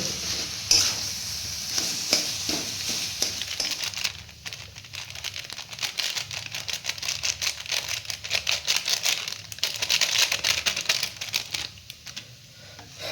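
Mashed potato is worked together with garam masala and nuts for a vegetable chop filling, giving a steady run of soft scraping, squelching and clicking stirring sounds close by, with no voices.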